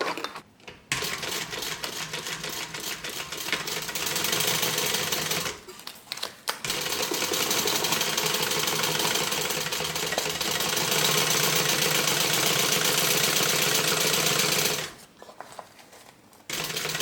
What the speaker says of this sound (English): We're going to sew this on.